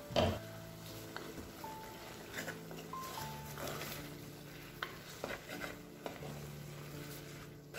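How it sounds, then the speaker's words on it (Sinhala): A spoon stirs cucumber curry in a pot, making soft scraping and clinking against the metal alongside a quiet simmering bubble, with an occasional brief tonal beep in the background. "ඒ අතරේ මම දෙපාරක් විතර ඇරලා මේ විදිහට කලවම් කරනවා"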